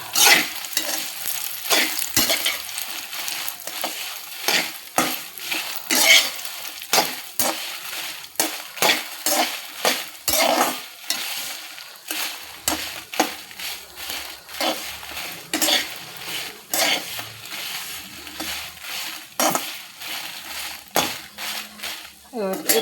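Food frying in a pan while being stirred, with busy sizzling and repeated scraping strokes of a spoon against the pan, plus occasional clinks of utensils; steady and close throughout.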